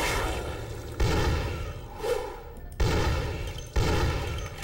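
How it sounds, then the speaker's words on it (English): Gunfire from a gun in the video game Vampire The Masquerade - Bloodlines, four loud, heavy shots roughly a second apart, each with a booming tail that fades before the next. "Gosh, this gun is so loud."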